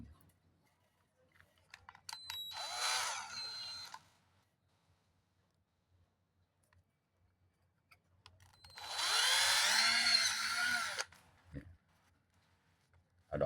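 Two bursts of a cordless drill whirring as it drills a hole, one short and one longer, separated by near silence, with faint clicks before and after.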